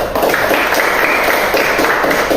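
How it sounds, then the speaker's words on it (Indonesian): Primary school classmates clap for a student in a classroom, a dense burst of close, loud applause that runs the whole moment without pause. "Kalau tidak, kita tepuk tangan untuk Diego."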